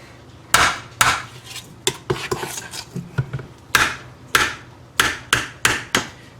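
Cranberry lemon pound cake batter is scooped into four baking pans in a kitchen, with repeated sharp clanks and scrapes of a utensil against bowl and pans, irregular and close, with no talking.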